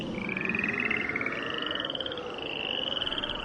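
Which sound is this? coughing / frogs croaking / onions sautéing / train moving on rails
frogs croaking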